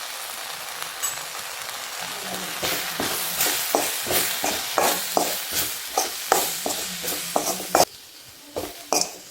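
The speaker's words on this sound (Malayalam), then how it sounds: "ഈ മസാലകൾ ഉള്ളിയിൽ നന്നായിട്ട് വഴണ്ട് വരുന്നത് വരെ ഒന്ന് നമുക്ക് ഇളക്കി കൊടുക്കാം" Garam masala, coriander powder and chilli powder fry with onions in a pan while being stirred, with repeated scraping strokes in a steady rhythm over a soft sizzle, close and clear.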